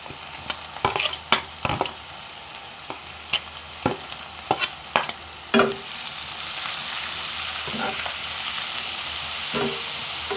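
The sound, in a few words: sautéing grated carrot and leek mix in pan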